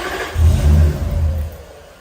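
Toyota 1UZ V8 engine settling up to idle with the foot off the accelerator, a low, close rumble that swells and then eases into a steady idle, heard alone.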